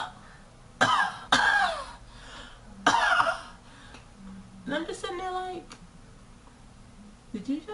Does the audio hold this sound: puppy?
no